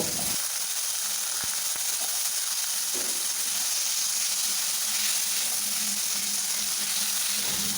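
Cut potatoes fry in a pan, giving a steady, dense sizzle and hiss that holds throughout at close range with no talking.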